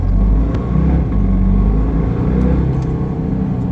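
A Volkswagen XL1 at full throttle gives a steady, loud in-cabin engine drone with low rumble and a faint rising tone, continuous throughout without speech.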